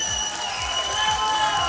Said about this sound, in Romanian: Aplauze încă o dată pentru el!